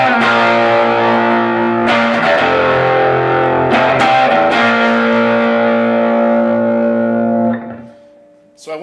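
A sustained, thick distorted electric guitar chord through a BJFE Emerald Green Distortion Machine pedal rings out with a few re-struck accents, then decays and cuts off near the end.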